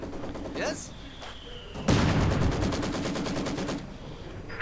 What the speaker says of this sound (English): immediately the Grenadiers find themselves under a bit of intense attention of the Maxim crew. Mortar joining in the fun as well.